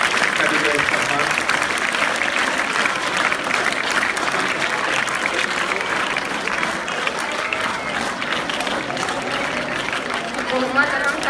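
Loud, sustained applause from students and staff at a school election result ceremony at Alhira Urdu High School in Bhusawal, dense clapping running throughout with crowd chatter and voices mixed in.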